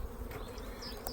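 Honey bees hum steadily in and around an open hive with a queen excluder, a continuous low insect buzz with no talk.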